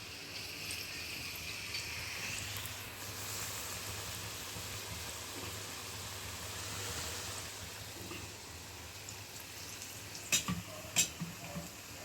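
Batter-dipped green chillies deep-fry for mirchi bajji, giving a continuous, even crackling sizzle of hot oil that fills the whole stretch, with a few brief scrapes or knocks near the end.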